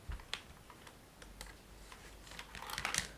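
Scattered keystrokes click on a wired keyboard connected to a Samsung Galaxy S25 Ultra, quiet and uneven at first, then quickening into a denser flurry of taps near the end.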